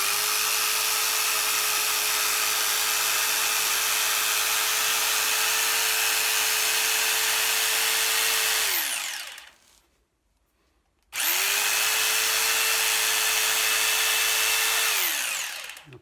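A power tool cutting a chamfer along wood for an upholstery stool, a loud steady motor whine that spins down to silence, then restarts and runs again before winding down, close by with no talk.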